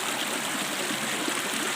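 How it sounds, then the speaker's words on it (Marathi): Year-round water seeps from fig tree roots and runs over mossy rock, making a close, steady rushing flow that stays even and unbroken throughout. "12ही महिने उंबराच्या मुळीतून येणारं पाणी आहे"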